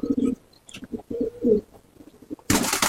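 Domestic pigeons coo in a loft, a series of low, rolling coos in short close phrases, ending with a sudden loud rustling burst like wings or movement.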